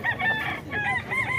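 A White Night Peruvian rooster crows close by, several drawn-out calls in quick succession, loud and clear with no talk over them.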